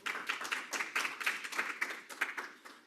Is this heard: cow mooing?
no